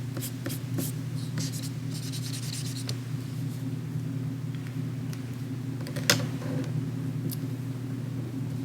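Markers scratch and squeak across paper while a polar bear is drawn for a second-grade craft, quick close strokes over a steady low background hum.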